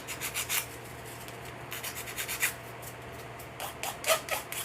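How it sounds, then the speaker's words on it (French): A nail file rasps quickly over a cured resin-and-powder nail surface in short, light, repeated strokes, close and faint, with no talking. "je vais juste limer rapidement la surface"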